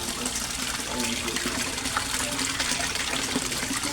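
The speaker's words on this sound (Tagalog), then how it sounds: "Aqua Speed submersible pump, ang lakas-lakas din, yung nagwa-waterfalls." Aqua Speed submersible pump feeding a koi pond waterfall, water pouring and splashing in a steady close gush, with someone talking faintly beneath it.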